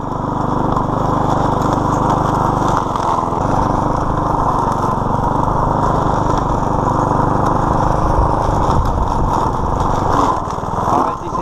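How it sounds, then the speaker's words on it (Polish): A small lawn mower from June of this year, used in a vegetable allotment, drones steadily and loudly throughout with a constant engine hum and slight fluctuations, no talk. "to jest tylko kosiarka"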